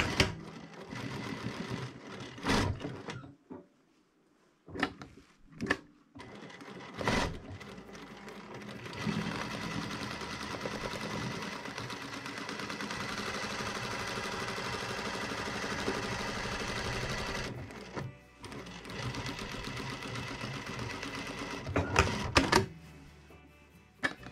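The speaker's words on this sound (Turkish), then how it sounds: "Aynı dikişin üzerinden bir kez daha dikiyoruz sağlam olması için." A sewing machine stitches back over a trouser seam in several rapid mechanical bursts of whirring and clatter, separated by short pauses, with one long continuous run in the middle.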